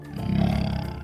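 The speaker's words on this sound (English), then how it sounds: "Jaguar." A jaguar lets out one sustained, throaty roar with a pulsing, rasping texture, loud and close, lasting around a second with nothing else audible.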